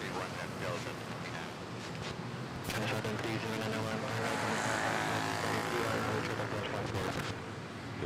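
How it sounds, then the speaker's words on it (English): Cebu Pacific Airbus A320neo airliner arriving at Manila Airport from Tacloban, a continuous broad roar of jet engines that swells slightly midway, heard from a spotting position with a voice talking over it. "A320 Neo arriving from Tacloban."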